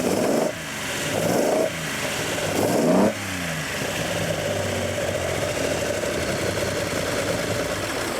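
An old car engine runs roughly and struggles to idle, surging in uneven revs before settling into a steady, close, mid-pitched rumble on its own.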